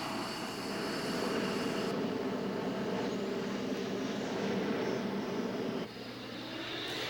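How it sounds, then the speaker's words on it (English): A combination fighter and ground-attack jet armed with missiles, bombs and a 20-millimeter cannon roars loudly and steadily, with the broad engine noise easing slightly near the end. "This is a combination fighter and ground attack jet."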